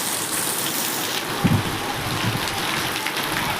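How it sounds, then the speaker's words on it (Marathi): Steady rain falling outdoors on a rainy day, a continuous dense hiss of drops close by with a couple of faint low thuds. "बघा ना पाऊस किती मस्त येत आहे"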